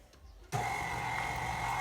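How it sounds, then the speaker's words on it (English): An electric mixer switches on abruptly and whirs steadily at close range while creaming peanut butter egg ingredients, with no talk. "a mixer is necessary so that you can get all the ingredients good and combined and cream together"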